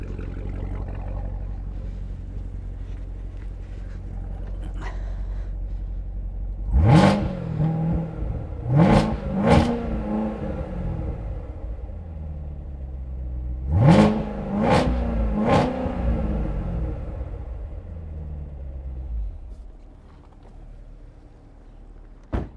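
A Chevrolet Corvette C8 engine, not yet warmed up, revs to about 3,500 RPM in several sharp bursts: two pairs of quick throttle blips with a steady idle rumble between them, while other cars idle in the background.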